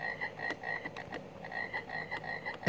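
A frog croaks repeatedly in a rapid, irregular series of short rasping calls, fairly faint and steady across the whole stretch, with no talking.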